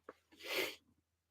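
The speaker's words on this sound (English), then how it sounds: "Every now and then I just get these sneezes" A single close sneeze, preceded by a short sharp intake of breath, builds to a loud breathy burst and then fades into quiet.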